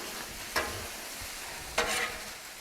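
BBQ chicken glazed with Sweet Baby Ray's sauce sizzles on a Blackstone griddle, a constant close hiss broken by two sharp scraping spatula strokes.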